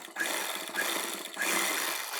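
A sewing machine whirs steadily while stitching elastic onto a lehenga, running close and loud in continuous bursts with slight pauses between them.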